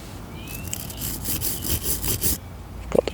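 A coarse brush scrubs fingernails in a garden: a close, loud burst of quick back-and-forth bristle strokes, then a couple of soft taps after it stops.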